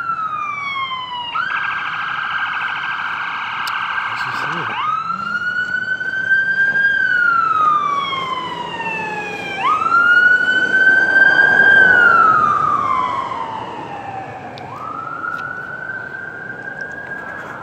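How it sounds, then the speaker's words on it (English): Ambulance siren wailing loudly and close, sweeping slowly up and down in long repeated cycles, with a steady engine rumble underneath. "Sounds like an ambulance."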